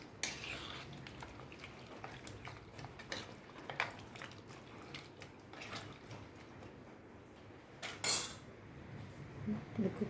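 A spoon clinks and scrapes inside a pot while a sambar mixture of sambar powder, salt and water is stirred together, giving repeated metallic taps and grinding scrapes with a few sharper knocks, close by and without speech.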